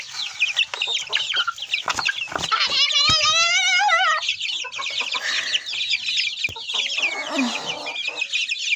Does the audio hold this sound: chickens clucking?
yes